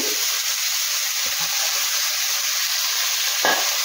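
Methi leaves fry in ghee in a kadai, giving a steady, loud, continuous sizzle with a few soft stirring knocks and one brief clatter near the end.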